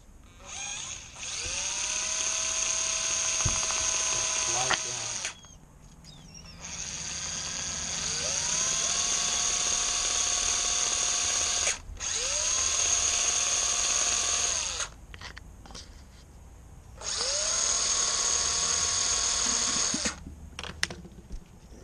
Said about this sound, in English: You just have to put some pressure on the back of the drill.